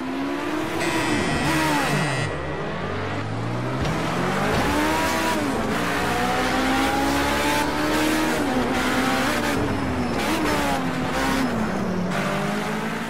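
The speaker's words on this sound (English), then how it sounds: "I think these cars sound absolutely fantastic." Group 5 race cars in the Project CARS 2 racing game, several engines revving and shifting loudly and continuously with rising and falling pitch sweeps and faint tire squeal throughout.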